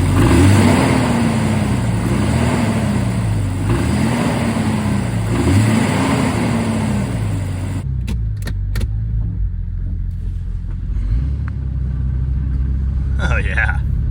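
A rusty, rattly 2000 Jeep Cherokee XJ with a 4-liter engine runs with a steady low rumble, its pitch rising and falling in repeated revs before settling. A few sharp knocks or clicks follow, and a voice speaks briefly over it.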